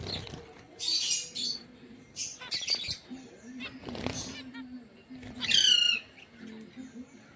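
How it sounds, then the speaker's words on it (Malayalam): Jumbo finches chirp in short bursts of bright, high notes, mixed with a person speaking at a moderate level nearby. "ജംബോ ഫിഞ്ചസ് ആണ് ഫിഞ്ചസ് പെടുന്നതാണ്"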